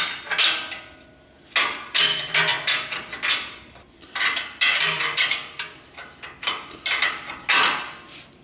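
Loosening the tie rod end nut on a 2022 Ford F-150 gives a run of loud, close metallic ratcheting bursts with short pauses between them.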